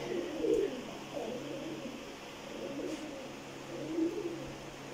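Pigeons coo softly in low, throaty bursts, a few repeated calls close by over a quiet background.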